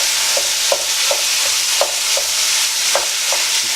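Lean beef mince browning in a hot pan with spices, a steady loud sizzle broken by regular scrapes and knocks of a spoon stirring and breaking up the meat, no voices.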